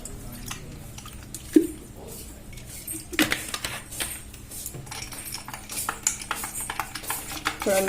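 A mango panna drink being stirred with a utensil after cold water, ice and cumin powder were added, giving soft clinking and sloshing taps that come irregularly through the clip, close and fairly faint, with no talking.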